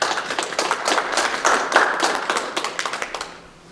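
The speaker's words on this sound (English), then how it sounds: "Let's give these gentlemen and lady a round of applause" A small room at a school board meeting gives a round of applause, a sparse but steady patter of distinct handclaps from a modest group that thins out and fades at the end.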